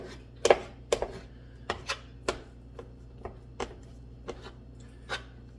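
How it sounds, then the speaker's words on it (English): A knife chops lard into small pieces on a board, giving about a dozen crisp, close taps at an irregular rhythm over a low steady hum, with no talking. "I'm going to take this lard and I'm going to cut it up in little pieces"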